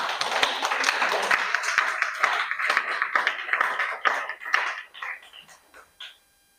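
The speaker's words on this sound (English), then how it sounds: "Yeah, clap yourselves harder," Audience at a teachers' debate final claps loudly and eagerly, the dense applause holding steady for several seconds before thinning into scattered claps and fading out.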